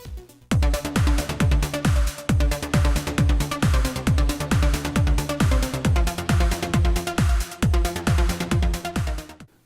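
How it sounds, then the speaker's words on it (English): A VPS Avenger synth pluck plays a steady, even arpeggiator pattern of short plucked notes with a thumping low pulse on each beat, clear and upfront with no talking. "a pluck sound which might sound something like this in an arpeggiator"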